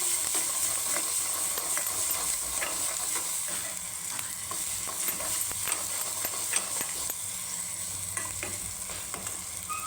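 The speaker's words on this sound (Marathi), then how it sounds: "मिरचू आपल्याला जेवढं लागेल ना तेवढंच टाकायचं मिक्स करून घेणार आहे" Chili is stirred into tur dal varan in a sizzling pan, with repeated scraping strokes over a constant soft fry heard up close, without any talking.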